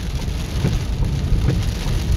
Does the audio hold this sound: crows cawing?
no